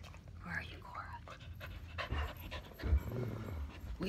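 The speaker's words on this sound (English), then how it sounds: "Petunia and Cora the spy dog." A dog pants in quick rhythmic breaths close by, with soft background talk and movement around it.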